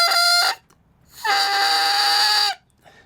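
Oboe reed being blown on its own, giving two bright, buzzy crowing tones, a short one then a longer sustained one, loud and close with brief silences between.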